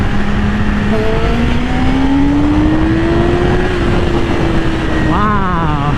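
A 2020 Yamaha R6 sport motorcycle engine revs loudly and close, its pitch climbing and holding high before dropping and rising again, with a voice talking over it.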